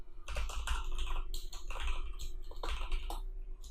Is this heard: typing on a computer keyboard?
yes